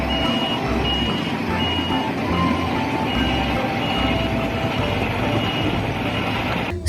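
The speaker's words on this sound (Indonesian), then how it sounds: "ada truk molen." A toy cement mixer truck gives off steady, repeating electronic beeps over a continuous mechanical whir, close up and moderately loud, with no talking.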